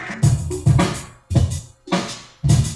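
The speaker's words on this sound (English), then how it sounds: "Distortion." A beat from a Maschine runs through distortion on a KP3 Kaoss Pad: five or so gritty, crunchy hits arrive in a steady pulse, each with a fuzzy, saturated top end that decays quickly before the next strike.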